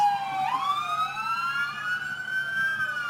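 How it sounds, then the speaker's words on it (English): Fire truck sirens wail loudly and steadily, their rising and falling tones sweeping and overlapping for the whole stretch, with no talking. "They really like those sirens."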